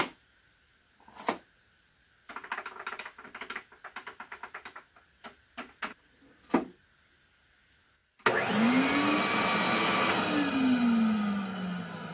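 A vacuum cleaner canister runs with a steady, loud whine and a broad roar that starts abruptly partway through. It follows a stretch of sharp taps and rhythmic clatter, as if the metal floor-attachment pipes are being struck.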